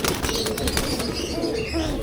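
Pigeons in a loft, including a silver pigeon, cooing softly amid scattered wing flaps and rustling, close and moderately loud.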